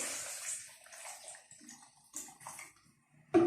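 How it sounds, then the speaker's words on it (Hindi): Water is poured into falsa juice in a few uneven splashing bursts with quiet gaps between them, ending in a louder close gush. "अब हम इससे पानी ऐड करती हूँ मैं"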